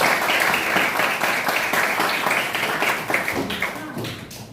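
A class applauds together for everyone at the start of a morning guidance lesson, with steady dense hand claps of many people sustained and close throughout.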